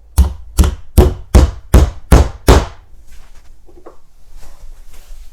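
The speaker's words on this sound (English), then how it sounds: "Then you can just hammer your nail home." Seven sharp hammer blows strike in a quick, even rhythm, driving a nail through skirting board into a stud wall, close and loud, followed by quieter handling sounds.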